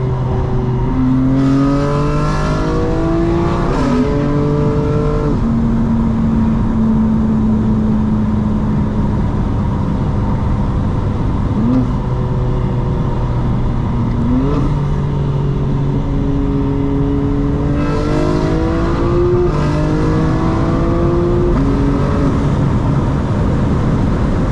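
A powerful 2025 BMW M4 Competition engine revs and roars at night, pitch rising and falling through repeated throttle blips, loud and close with a rumbling idle between.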